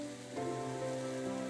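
Soft, steady rain falls in the Psychedelica of the Black Butterfly video game, faint beneath sustained tonal background music.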